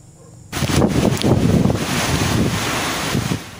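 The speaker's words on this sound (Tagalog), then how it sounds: "Sinabayan ng hampas ng hangin ang malakas na ulan sa Dinapigue, Isabela." Strong typhoon wind and heavy rain lash Dinapigue, Isabela, as Typhoon Paolo makes landfall: a sudden loud, steady roaring rush of gusts and downpour that starts abruptly and persists, buffeting the microphone.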